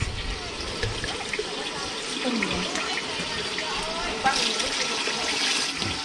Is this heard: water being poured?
yes